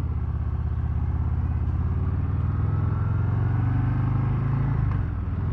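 Harley-Davidson 2024 Breakout motorcycle riding off: a steady, loud, low engine rumble with a slight rise in pitch partway through as it pulls away, heard close with no talking.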